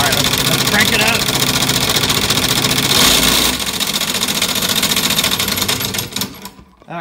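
A woodworking bandsaw running after start-up makes a dense, steady mechanical whir and rattle. It stays loud and close throughout, then winds down and tapers off near the end.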